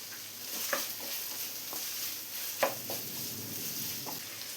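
Sliced onions frying in a pan of oil with a pinch of salt for a kappa and chicken dish cooked in coconut milk, a low steady sizzle broken by a few soft stirring scrapes and clinks.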